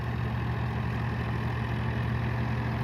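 An Eicher 551 tractor engine runs steadily nearby, a continuous low rumbling idle with a strong, even hum and no talk over it.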